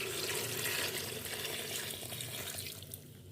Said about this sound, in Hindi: जो हमने गोश्त की यखनी रखी थी वो इसमें हम डालेंगे।